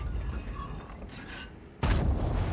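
An IS-7 heavy tank's cannon fires in a tank video game, a single loud blast that hits suddenly near the end and sustains a broad roar, after a quieter stretch of rumbling engine and ambient battle noise.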